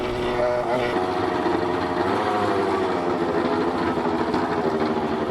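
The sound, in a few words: Yamaha RX50 two-stroke motorcycle engine idling fast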